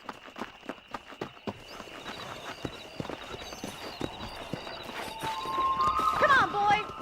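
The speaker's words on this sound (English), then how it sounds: "Horses, huh?" Hooves clip-clop in a quick, even rhythm as a horse gallops in the video game Red Dead Redemption, then the horse whinnies loudly near the end.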